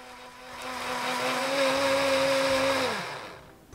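A blender whirs at close range, blending garlic, ginger and water into a paste, its motor pitch rising slightly as it runs steadily for a few seconds, then winds down and stops.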